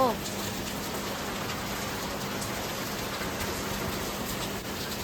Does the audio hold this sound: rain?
yes